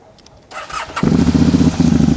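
A motorcycle adapted for a paraplegic rider starts up with a brief cranking whir, then catches and settles into a steady, close, loud idle in neutral.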